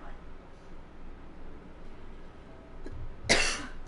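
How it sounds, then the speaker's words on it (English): In the horror video game Until Dawn, a character gives one short, harsh cough near the end, loud against a quiet, murmuring background. "The cough."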